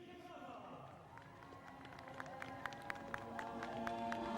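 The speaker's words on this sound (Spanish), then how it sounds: "Allí está el aplauso de la gente." Crowd in Kraków applauding and cheering the Pope's arrival, a broad steady wash of clapping and voices with a few sharper peaks, heard at some distance under faint talk.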